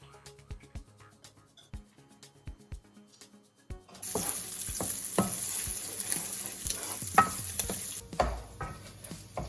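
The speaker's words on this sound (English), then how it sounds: "in a large pan, we're gonna put a little bit of oil, about like half a tablespoon, and then we're gonna start crisping the pancetta" Pancetta crisps in about half a tablespoon of oil in a large pan for Roman-style carbonara, a quiet start of scattered taps and stirring giving way to a steady, close sizzle with occasional clatters, no voices.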